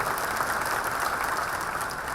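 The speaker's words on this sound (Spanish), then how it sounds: "Voy a pedir un aplauso para Toto, que fue el artífice." Dense, even applause from a conference audience at the AmCham Summit 2016, a steady wash of many hands clapping with no breaks, fairly loud and unbroken by speech.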